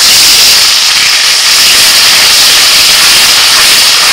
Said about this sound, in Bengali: মাছ ভাজা তেলের মধ্যে দিয়ে দিচ্ছি আদা রসুন বাটা।